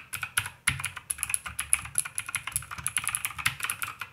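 Fast typing on a Royal Kludge RK61 keyboard with blue switches: crisp, loud, clicky keystrokes in a quick uneven rhythm, heard up close with no talk.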